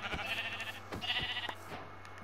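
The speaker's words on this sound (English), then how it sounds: "And there's a sheep." Sheep bleat in the Minecraft video game: a few wavering bleats sound in turn at close range, alongside soft in-game footsteps, with no talking over them.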